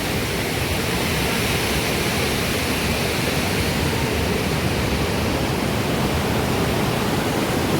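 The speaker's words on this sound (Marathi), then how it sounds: "इकडून धबधबा वाहतोय." Continuous broadband rush of a waterfall beside the Seetha Amman temple in Nuwara Eliya, Sri Lanka, loud and unbroken for several seconds with no speech.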